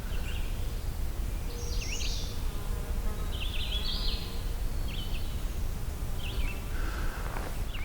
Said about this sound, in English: Couple of horseflies around me